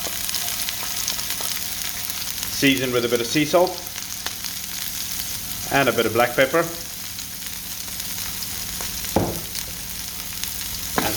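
Tomato and red pepper frying in olive oil in a pan over medium heat, a soft steady sizzle with bursts of stirring and scraping, under a voice giving cooking instructions.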